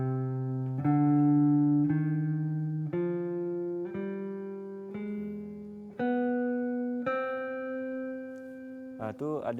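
Single plucked guitar notes climb one by one in an ascending harmonic minor scale, each sustained and evenly spaced, played cleanly with nothing else underneath.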